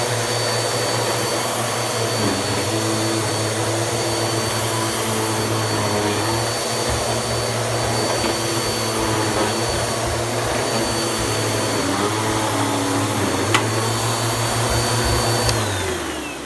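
A Bissell 9595A upright vacuum cleaner runs on a bare floor, with a loud, steady motor drone and a whine that holds for the whole stretch before it winds down slightly at the end.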